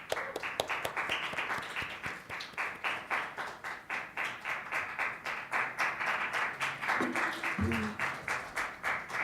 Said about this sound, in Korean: 학생의 연설을 박수로 들어보겠습니다.